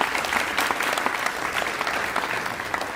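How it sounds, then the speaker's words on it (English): An audience at a 2024 awards night applauds for stage crew members, a steady dense round of clapping that holds at an even level for a few seconds. "Clap for them."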